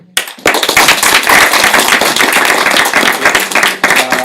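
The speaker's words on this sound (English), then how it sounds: "if we could give a round of applause to our panelists" An audience at a panel discussion on economics and oligarchic systems applauds the panelists, a sudden burst of loud, close clapping that holds steady for about four seconds before thinning out.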